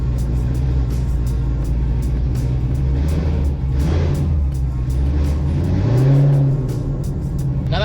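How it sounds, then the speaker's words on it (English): A Corvette Z06 engine holds a steady low rumble, then revs up sharply near the end before easing back, loud and close. "Now that second part was of course me doing the revving."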